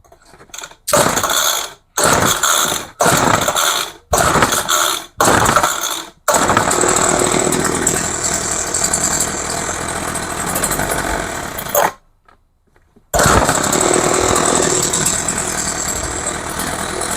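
A salvaged small two-stroke hedge trimmer engine, its carburetor recently worked on, sputtering through several short bursts of rough, rattling running before catching and revving steadily, briefly cutting out, then roaring back close and loud.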